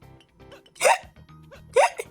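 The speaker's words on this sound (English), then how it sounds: "I got the hiccups." Two sharp hiccups from a cartoon character in a fandub episode, each a quick bright burst roughly a second apart, with faint low background murmur between them.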